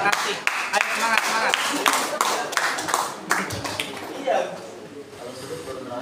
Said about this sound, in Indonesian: Tepuk tangan kepada dewan juri kita.